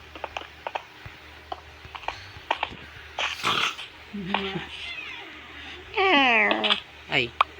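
A cat meows in the Minecraft video game during a Sky Wars match, with a few short in-game meows amid clicks and other game noises while a person talks.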